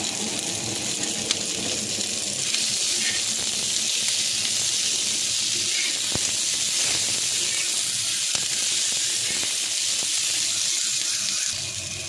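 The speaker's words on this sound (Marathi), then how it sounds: "आपण लसूण पण टाकूया ह्याच्यामध्ये। लसूण पण भाजून" Garlic and green chillies roasting in a pan for a dried-fish chutney, a steady close sizzling hiss running without a break and fairly loud throughout.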